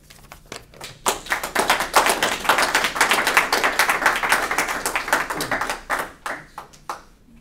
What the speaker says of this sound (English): Could we give all these folks another big round of applause?